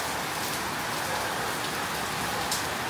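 Heavy rain pours down in a dense, unbroken hiss, loud and close throughout with no other sounds standing out.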